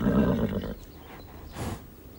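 A horse named Météore neighs loudly and close by in a 1995 Disney TV film: one strong whinny that fades, then a fainter snort-like breath.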